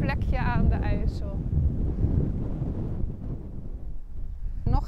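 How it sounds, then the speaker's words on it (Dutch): Strong wind by the IJssel river buffets the microphone with a constant low roar, while a person speaks briefly over it at the start. "wind is er natuurlijk weer enorm"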